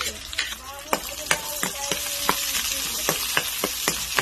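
Garlic and onion frying in a pan for healthy ginisang ampalaya, a steady soft sizzle punctuated by sharp clinks and scrapes of stirring.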